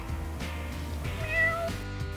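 A domestic cat gives a soft, faint meow over a steady low background hum, a single short drawn-out call near the middle.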